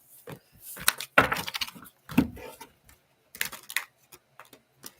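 Quick bursts of tarot cards riffling and slapping together, a few uneven rounds with brief pauses between, close and fairly loud.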